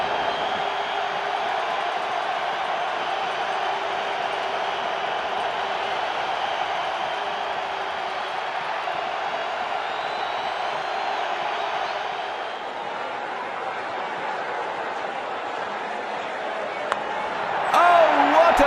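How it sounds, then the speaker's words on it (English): A stadium crowd cheers in a cricket video game, India versus Bangladesh T10 in Ahmedabad, as a dense, steady roar that holds for the whole stretch and swells briefly near the end. "The crowd has gone mad!"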